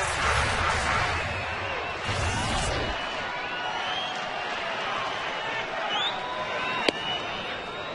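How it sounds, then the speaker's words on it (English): A baseball stadium crowd at a Mariners–Rangers game in Texas lets out a broad collective ooh over a near-miss pitch, a dense wash of many voices swelling and then fading. "A collective ooh from the crowd"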